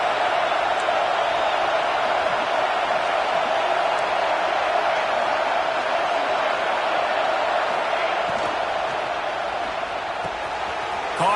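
A football stadium crowd roars in a continuous loud wash of cheering and noise, steady throughout, with a commentator's voice faintly under it.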